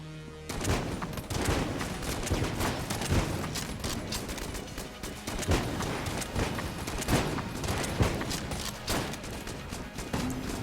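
A Tesla gun fires in Enter The Gungeon as a rapid run of sharp electric bursts, dense and regular over a continuous game backdrop, with a few heavier hits spaced through.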